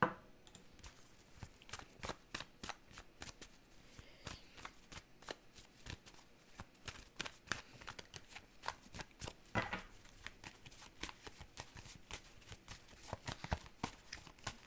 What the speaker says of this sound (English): I'm going to pull more cards too.